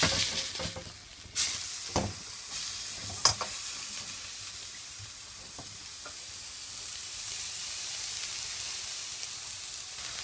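Steady sizzling of a homemade hamburger patty frying in a hot pan over low heat, with a few brief clinks and scrapes of a utensil early on.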